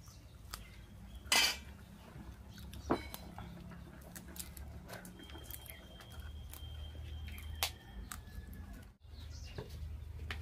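A cooked potato curry pan lifted off a village stove: one loud metallic clank near the start, then scattered lighter clinks and scrapes over a low steady background hum.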